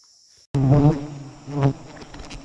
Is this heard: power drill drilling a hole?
no